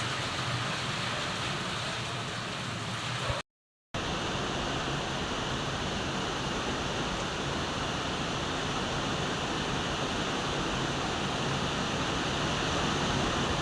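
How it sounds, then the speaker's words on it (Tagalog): Heavy rain pouring during a windy storm in the Philippines, a dense, loud, steady roar that continues unbroken apart from a moment of dropout. "Malakas po ang ulan ngayon."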